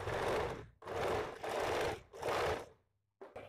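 A sewing machine stitches puff sleeve fabric in close, fast buzzing bursts, three sustained runs with brief pauses between, then a short final burst after a quiet gap.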